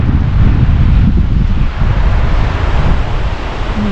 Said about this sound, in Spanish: ¿Qué tal ese río?